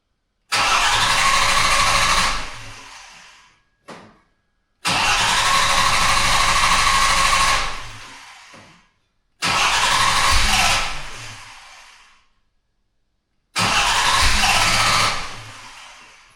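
A Jaguar XJ6 with a starting problem cranks in four separate bursts, each a loud, harsh whirring roar of two to three seconds that fades out, with a short blip and silent gaps between attempts.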